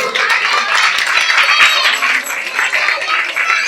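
Audience at a school year-end show applauding a diploma presentation, a continuous wash of many hands clapping close to the microphone, with a voice heard faintly underneath.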